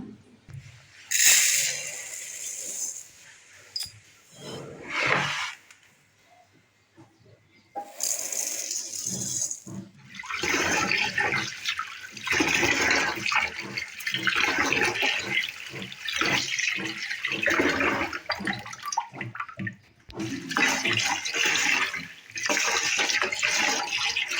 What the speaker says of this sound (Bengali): জল দিয়ে তারপর চাল মেপে চালটা ধুয়ে নেব